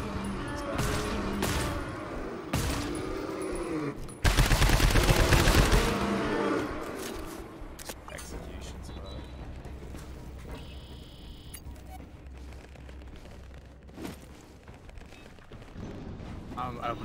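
Gunfire in the video game GTFO, several sharp shots early on, then a dense burst of automatic fire, then a quieter stretch with a low rumble and scattered clicks, while a person talks throughout.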